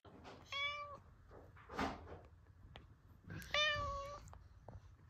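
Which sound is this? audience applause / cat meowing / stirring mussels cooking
cat meowing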